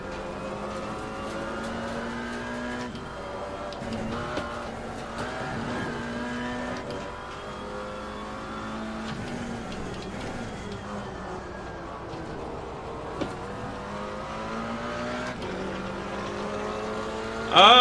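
A GT4 race car laps Kyalami in the Assetto Corsa Competizione sim racing game, its engine note rising and falling steadily through gear changes, close and loud throughout with a brief burst near the end.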